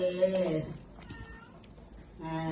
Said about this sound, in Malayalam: പൂച്ചേനെ